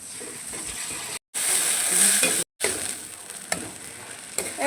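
Egg chili with tomato and chili sauce is stirred in a hot pan, a loud sizzling broken by brief gaps and scraping strokes of the spoon, with no voice.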